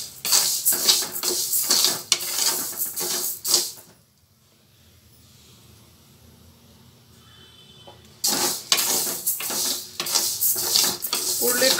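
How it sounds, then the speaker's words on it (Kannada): Horsegram is dry-roasted on medium flame and stirred in a pan, with rapid scraping and rattling of the grains against the metal in bursts around a quiet pause in the middle. "ಹುರುಳಿಕಾಳು ಕೆಂಪು ಆಗೋವರೆಗೂ ಹುರ್ಕೊಳ್ಳಿ"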